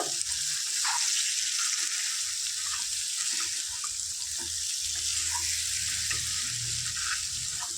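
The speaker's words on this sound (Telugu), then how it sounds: "కారం పొడి మసాలా అంతా కలిసేలా చక్కగా ఫ్రై చేసుకోవాలి" Chicken pieces coated in chili powder and masala sizzle steadily in a pan for Telangana-style chicken curry, a bright continuous frying hiss with occasional stirring scrapes and soft clinks underneath.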